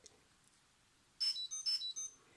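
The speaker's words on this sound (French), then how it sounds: "vous voyez, le Buddy sonne" Biisafe Buddy key finder triggered from a phone, giving two loud bursts of bright electronic ringing tones that start about halfway through after a quiet stretch.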